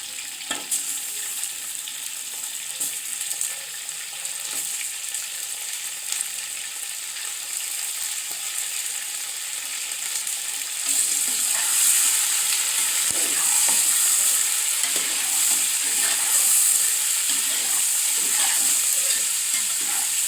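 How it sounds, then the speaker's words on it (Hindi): Meat added to light-browned onions in a pan for aloo chicken, sizzling steadily with occasional stirring and getting louder partway through, no talking. "जी तो हमारा प्याज लाइट ब्राउन हो गया है, अब इसमें हम गोश्त डालेंगे।"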